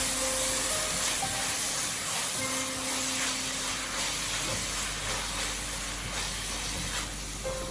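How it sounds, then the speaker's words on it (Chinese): Yellow chives stir-frying over high heat in a Cantonese home kitchen, a continuous hissing, steamy sizzle at moderate level with faint scraping, no voices. "开大火把韭黄炒至断生，把韭黄里面的水分给它炒干一下。"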